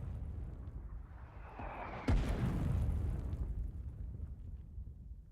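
Artillery shell landing in the video game Foxhole, a single heavy boom midway with a rumbling low tail, preceded by a faint whistling approach over steady background battle noise.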